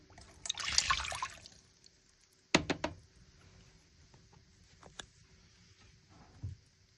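Water poured into a cooking pot to make sugar syrup for Aleppo-style mamounia: a short splashy pour near the start, then a few sharp metallic knocks and faint dribbles in a quiet kitchen.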